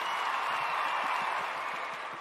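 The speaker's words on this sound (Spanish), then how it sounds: "voy a poner primero un aplauso virtual para hacer uso de mis sonidos" A short virtual applause sound effect played on a podcast, a smooth continuous wash of crowd clapping, steady and fairly loud for about two seconds.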